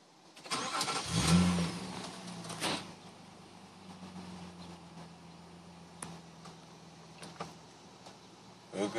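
An 04 Nismo Maxima engine cranks and starts with a short loud burst, then settles into a steady, quieter idle with a few faint clicks over the remaining seconds.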